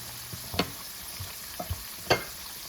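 Panko crusted chicken pieces fry in a pan with a steady, quiet sizzle, broken by a few sharp spatters and pops, close by and with no talking.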